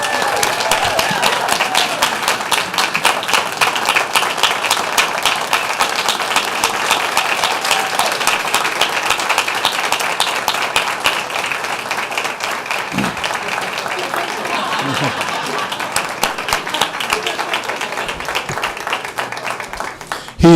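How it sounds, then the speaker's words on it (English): Sustained, dense applause from a school board meeting audience honoring their superintendent, loud and even for about twenty seconds, with a crowd murmur underneath. "Let's give him a round of applause."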